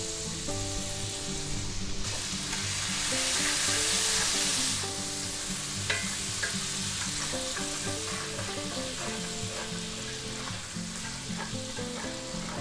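Butter and minced garlic sizzle over medium-low heat in a pan that still holds seared pork bits. The crackle is steady and close, swells louder for a couple of seconds early on, and runs under faint background music with no talking.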